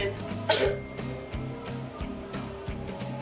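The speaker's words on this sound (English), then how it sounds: "Did you cough?" One short, soft cough sounds early on, nearby, over a faint, steady musical background.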